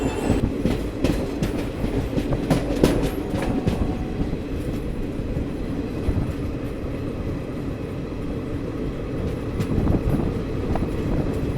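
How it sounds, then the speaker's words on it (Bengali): The Balurghat Express rolls along near New Farakka Junction, its wheels keeping up a steady clickety-clack with rattling carriages and occasional sharp squeals, loud and close throughout. "আর এই হচ্ছে আমাদের বালুরঘাট এক্সপ্রেস।"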